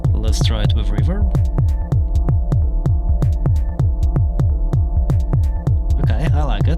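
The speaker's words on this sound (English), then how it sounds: "I'm going to place a clap pattern, but once again we're not doing the typical 4 on the floor thing." A techno clap pattern programmed on a Korg Volca Sample, washed in reverb and riding over a steady, throbbing low pulse with sustained tones, repeating in a tight loop throughout.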